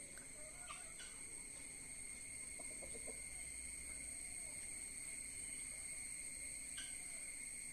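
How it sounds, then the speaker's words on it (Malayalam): Chickens and ducks in a rural yard, heard as faint, scattered clucks and calls far in the background beneath a steady, high insect drone. "ഇവിടെ താറാവ്, കോഴി ഇങ്ങനത്തെ ഐറ്റംസ് ഒക്കെ ഉണ്ട്"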